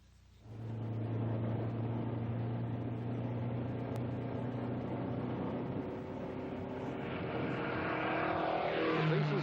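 A 1962 Ford Mustang I concept car is driven in testing, its engine holding a steady drone at moderate distance. The engine note climbs toward the end.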